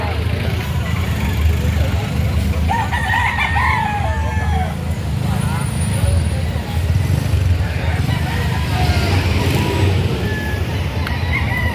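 Chickens cluck and a rooster crows in the middle distance at a poultry market in Lipa City, Batangas, beneath steady crowd noise, traffic and close conversation.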